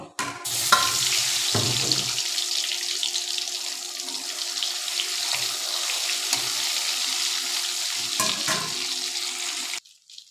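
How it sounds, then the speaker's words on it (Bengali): An egg frying in hot oil in a kadai, a sustained bright hissing sizzle running evenly for several seconds with a few soft bumps, then cutting off abruptly. "কড়াইয়ে তেল দিয়েছি, এখন ডিমটা ভেজে নেব।"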